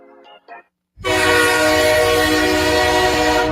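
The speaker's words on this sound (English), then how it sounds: "The train!" A loud train horn blares continuously over the rumble of a passing train as a sound effect, following a few brief faint sounds and a moment of silence.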